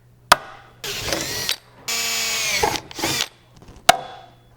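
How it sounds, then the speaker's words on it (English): Rear wing strut being riveted to the trunk of a 1994-98 SN95 Mustang: a sharp snap, then several bursts of pneumatic or power-tool whirring, and another sharp snap, close and fairly loud. "we'll mark the rest of our holes and rivet this guy in place"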